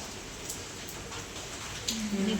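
Rain falls in a steady, soft hiss throughout, fairly faint and even, with no voices.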